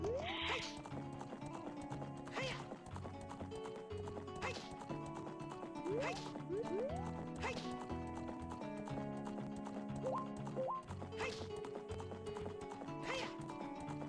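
Horse galloping in Ocarina of Time video game, a steady clip-clop rhythm with occasional whinnies, mixed with game music and effects under ongoing talk.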